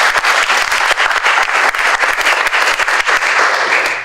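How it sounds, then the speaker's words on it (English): Audience applause at a school district career and college pathways summit, a large crowd clapping loudly and steadily, dense and continuous for several seconds. "Will you give yourselves a round of applause for doing that?"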